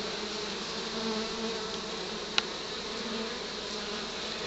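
Honey bees buzzing steadily around a trap-out hive set in a Gatlinburg cabin wall at evening, a continuous close drone with one brief click, no voices.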